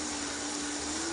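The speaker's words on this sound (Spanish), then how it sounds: "Vamos a licuar ahora" A kitchen blender whirs steadily while blending salsa ingredients for a Oaxacan amarillo, a constant loud motor drone with no break, heard alone.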